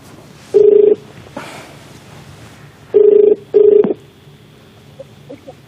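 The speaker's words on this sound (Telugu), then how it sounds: "రింగ్ అవుతుంది, కాల్ చేస్తున్నాము" Telephone dialing tones and a ringing phone sound in a short sequence, with three loud, steady electronic tone bursts separated by quieter gaps.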